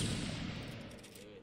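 A line of shooters fires a gunfire volley. It comes as a dense, fairly faint crackling burst that fades over about a second.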